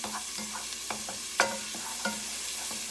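Ingredients for chicken tortilla soup sauté in a pan that has been moved off the burner, with a soft, steady sizzle punctuated by a few close utensil clicks and scrapes.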